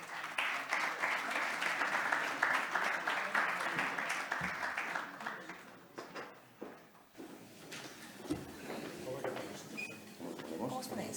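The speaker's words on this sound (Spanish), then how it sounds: "Un fuerte aplauso para ellos" Sustained applause from a crowd at a round-table discussion on sport fills the first several seconds, then fades into scattered room noise and faint movement.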